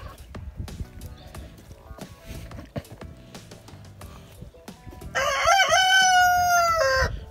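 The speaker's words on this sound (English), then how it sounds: "shut up, Rooster" A backyard rooster crows loudly and close by in a single long call near the end, after a stretch of scattered knocks and clatter around a homemade chicken coop.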